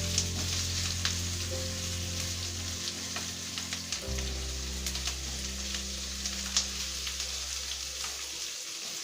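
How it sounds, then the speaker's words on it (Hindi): Green chillies and capsicum roasting in a hot pan until crispy for chilli chana, giving a steady close sizzle and crackle with low hum throughout. "मिर्ची डाल देते हैं, शिमला मिर्ची है। तो क्रिस्पी होने तक थोड़ा सेक लेते हैं।"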